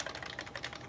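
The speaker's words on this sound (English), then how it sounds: "I'm typing here" Typing on a computer keyboard while testing the search box of a Windows 10 PC: a steady run of quick, close key clicks filling the short moment.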